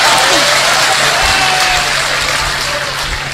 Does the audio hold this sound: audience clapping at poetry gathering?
yes